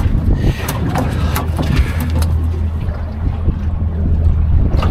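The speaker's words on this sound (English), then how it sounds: "it might be a little bit hard to hear me because of the wind" Strong, steady wind buffets the microphone on a fishing boat at sea, with a low rumble running throughout and no talking.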